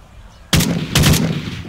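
Gunfire in Call of Duty, a close, loud burst of two or three rapid shots followed by a second quick volley with a booming low rumble trailing after.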